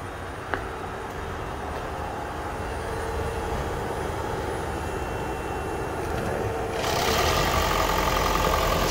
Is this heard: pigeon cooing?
no